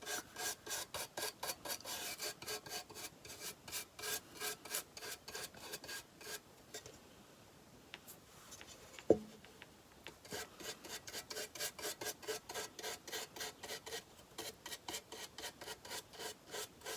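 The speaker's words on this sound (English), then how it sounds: "And to go down in the crevices with that wax." Rhythmic back-and-forth rubbing as wax is worked into the crevices of a wooden piece, close and steady, with a quieter pause and a single sharp knock in the middle.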